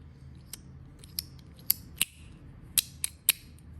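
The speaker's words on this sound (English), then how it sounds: "The clicking feels good." A fidget slider clicker snaps with sharp, close, crisp clicks, about eight in all at uneven intervals, over a quiet background.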